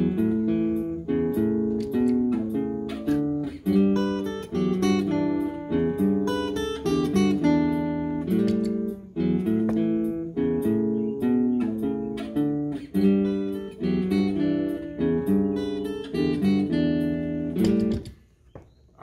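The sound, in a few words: electric guitar looped layer with effects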